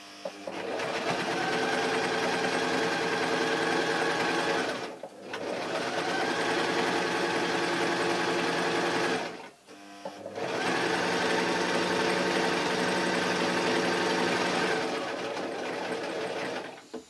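A sewing machine stitches a permanent seam on a hot water bottle cover, running in three long steady whirring bursts separated by brief pauses where the stitching reverses, close and continuous.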